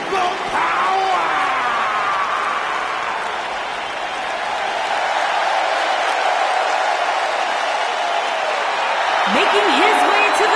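Wrestling event crowd applauding and cheering loudly and continuously, a dense arena roar that swells slightly toward the end with a few whoops cutting through.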